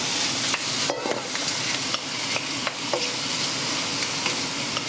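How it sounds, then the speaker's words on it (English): Prawns stir-fry in a hot dry wok, a steady bright sizzle with intermittent stirring clacks and scrapes, close and moderately loud. "take our beautiful prawns and actually stir fry them in batches"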